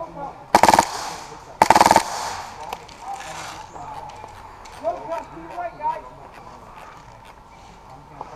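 Gunfire shot over a teammate's head comes in two loud, close bursts of rapid shots in quick succession, followed by quieter sounds while people talk.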